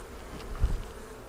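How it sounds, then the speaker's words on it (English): Honeybees hum softly during a hive inspection of the honey super and brood box, a low steady buzz with one brief thump midway. "There's a whole festoon of bees on the bottom"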